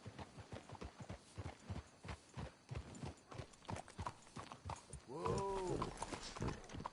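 Horse hooves clip-clop in a steady walking rhythm on a hard surface in the video game Red Dead Redemption 2, and a horse whinnies loudly near the end.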